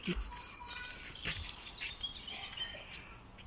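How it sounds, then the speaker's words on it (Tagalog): Many birds chirp outdoors at a Center Parcs holiday village in the UK, faint scattered tweets and calls at a distance over a quiet, airy background. "Ang daming ibon."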